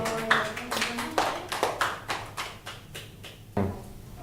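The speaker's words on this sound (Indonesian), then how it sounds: "Tepuk tangan buat Kevin." A small group in a classroom gives a few scattered, irregular claps for a student, fairly faint and close, with light background noise and no talk over it.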